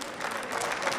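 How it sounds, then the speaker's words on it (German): Lawmakers in the German Bundestag applaud in a steady, dense patter of many hands clapping that lasts throughout, with no pause. "Grüne und Linke klatschen jetzt"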